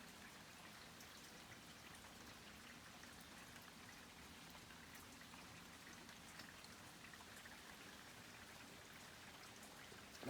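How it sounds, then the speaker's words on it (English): Steady rain falls outside a porch, a soft continuous patter of drops on surfaces with faint trickling, even and unchanging for the whole stretch with no voices. "I got chased in from the rain underneath the porch"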